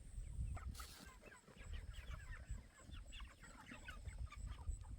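Meat bird chickens on a farm cluck and chatter in a steady, overlapping mix, close by and fairly quiet over low rustling and ambient noise.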